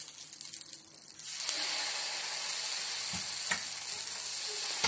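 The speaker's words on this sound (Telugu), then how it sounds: "ఇప్పుడు వేరే దోశ వేసుకుంటున్నాను" Dosa batter poured onto a hot pan for uttapam, a quiet start that bursts into a loud, steady hissing sizzle, with a couple of light taps of a utensil, close and continuous, with no talking.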